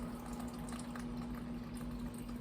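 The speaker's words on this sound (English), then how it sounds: "We're going to add some of this hot water." Hot water from a kettle pours steadily into a pot of Cajun chicken and shrimp soup, a continuous close liquid rush with a faint steady hum beneath it.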